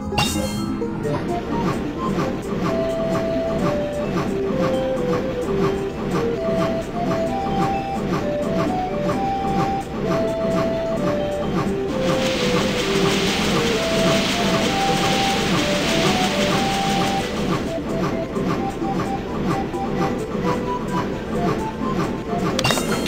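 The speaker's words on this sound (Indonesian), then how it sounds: "Kereta akan berbelok." A train in a Kiki Panda video game rolls along with a steady rumbling clatter and rhythmic clicking, while bright melodic game tones play over it and a hissing swell rises partway through.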